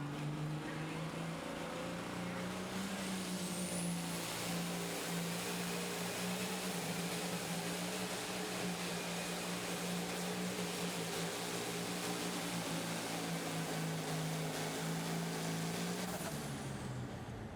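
The John Deere pulling tractor Money Shot making its pull at a pro stock tractor pulling event, its engine a loud, steady, droning roar held throughout before cutting off near the end.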